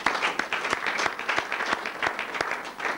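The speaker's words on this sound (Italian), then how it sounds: "invece no, un sedicenne, quindi un applauso" Studio audience applauding during a 1990 Umbrian regional sports television broadcast, a steady burst of dense clapping with sharp individual claps standing out, close and fairly loud throughout.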